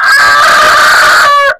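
Egyptian Fayoumi laying hens sound off in a single loud, close, drawn-out call with a rising-falling crow-like tone, held steadily before cutting off abruptly.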